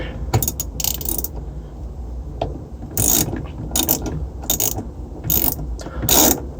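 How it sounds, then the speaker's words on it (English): A ratchet on an extension works a 7/16 bolt loose from a washing machine agitator with several bursts of sharp, close clicking, separated by pauses filled with quieter metallic handling. "you're definitely going to need an extension on your ratchet"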